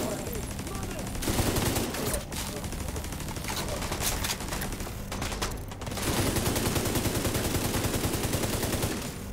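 A mounted turret in the shooter video game The Division 2 fires loud rapid bursts of gunfire, dense rattling volleys with brief pauses, and a voice is faintly present beneath.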